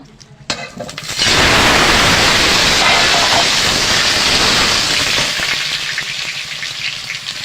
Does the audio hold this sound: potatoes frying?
yes